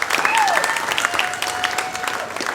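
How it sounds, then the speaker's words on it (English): An audience at a corporate comedy show applauds a nurse, lively clapping with a few whoops and whistles mixed in, loud at first and easing slightly while continuing. "Give her a round of applause right now."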